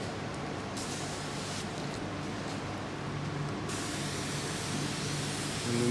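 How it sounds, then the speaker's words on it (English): Handheld mister spraying water over hydroponic microgreen trays, a steady soft hiss that runs continuously throughout at low level. "and we mist."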